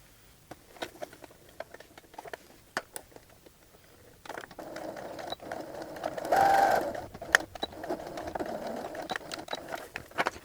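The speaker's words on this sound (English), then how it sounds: "I'm going to be sewing 5/8 of an inch all the way down to the point" A sewing machine stitching pocket pieces with a 5/8-inch seam, running in fitful bursts of rapid mechanical chatter that build from soft to a steadier, louder run with small clicks between.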